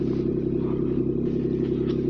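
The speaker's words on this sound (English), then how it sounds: "My Alexa played a Ford Raptor starting up." A Ford Raptor truck's engine, played back through an Alexa smart speaker, idles with a steady, deep, even rumble that is loud and unbroken, with no talking.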